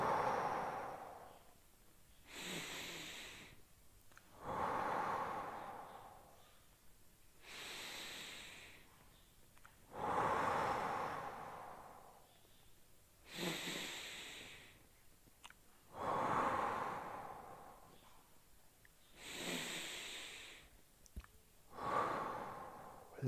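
Slow, deep breathing during a stretching exercise, with about five cycles of long, airy inhales and exhales at a close, calm pace, some breaths ending in a sharp nasal puff.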